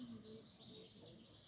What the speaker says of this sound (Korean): 여러분도 이 새소리가 들리나요?